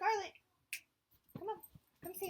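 A pet dog gives short, soft whimpers and yips between quiet pauses, close by, while a person talks nearby.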